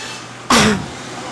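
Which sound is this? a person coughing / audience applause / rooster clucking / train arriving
a person coughing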